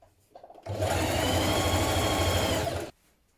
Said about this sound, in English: you want to make sure that you're using stretch stitch and pull on your fabric a little as you hem it